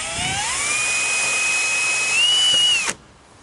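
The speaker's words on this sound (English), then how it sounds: "then we start drilling our holes for our rivets" A power drill whines steadily at high pitch for nearly three seconds while drilling rivet holes in an Alfa Romeo Giulietta car body, rising slightly before abruptly cutting off, close and loud.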